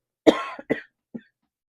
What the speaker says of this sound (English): I'm going to cough and I just need a sip of water.